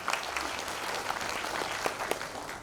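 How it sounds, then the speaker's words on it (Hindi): An audience at a party workers' meeting in an Indian hall applauds, a steady wash of clapping held at a moderate, even level for a couple of seconds. "जोरदार ताली बजा के उनका स्वागत करिए।"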